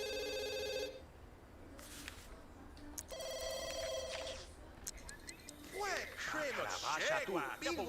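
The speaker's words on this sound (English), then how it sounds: "So we'll have Matthew answer the phone." Telephone bell rings in The Sims game, a clear electronic trill repeating in bursts over game music, with a voice talking through parts of it.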